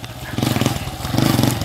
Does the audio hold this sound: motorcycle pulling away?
yes